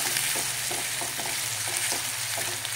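Chopped onions frying in oil for a Maharashtrian toor dal onion dish: a steady, dense sizzle with faint periodic stirring scrapes, close by and constant throughout, no voices.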